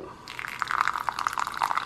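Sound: water poured into a bowl of oats

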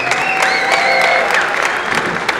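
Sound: audience applause for a magician

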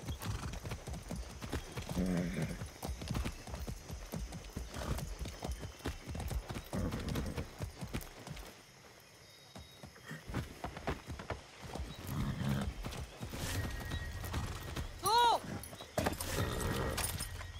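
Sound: horse hooves and neighing in video game Far Cry 6

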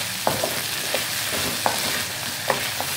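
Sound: brinjal (eggplant) and green sundakkai sautéing in a pan

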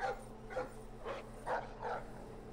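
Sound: guard dog barking in video game Splinter Cell

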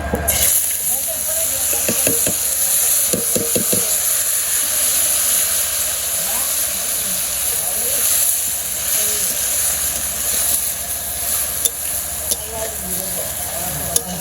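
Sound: potatoes frying in a pan

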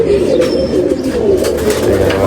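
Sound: pigeons cooing

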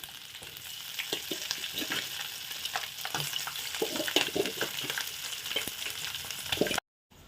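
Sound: boiled chicken frying with onions in oil

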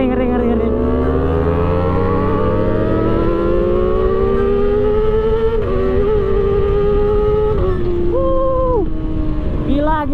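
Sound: loud motorcycle exhaust during drag race, Kawasaki Ninja sportbikes

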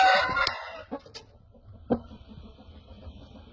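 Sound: Indian rooster crowing

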